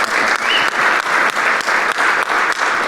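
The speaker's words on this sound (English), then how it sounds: "Let's give a round of applause for Mary Shea." A conference audience at EDGE22 gives a strong, sustained round of applause for Mary Shea, the close crowd clapping in steady, slightly pulsing waves.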